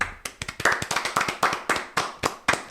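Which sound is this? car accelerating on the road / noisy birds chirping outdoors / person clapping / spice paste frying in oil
person clapping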